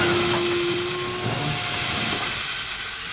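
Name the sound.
steam hissing from steam engine safety valve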